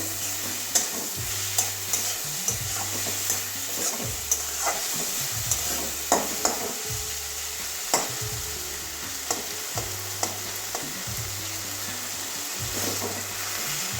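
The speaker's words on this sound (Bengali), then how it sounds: "বাঁধাকপিটা পাঁচ মিনিট ধরে সিদ্ধ ভাজা করছি" Cabbage and tomato frying in a pan for a Bengali cabbage bhorta, a constant close sizzle broken by repeated sharp scrapes and taps of a spatula stirring against the pan.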